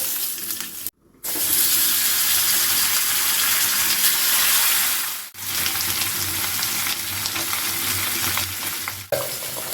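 Curry leaves crackle and sizzle in hot coconut oil for tempering a Mangalore-style mackerel pulimunchi, a loud, steady, close frying hiss broken by two brief pauses.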